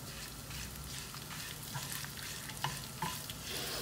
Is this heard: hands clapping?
no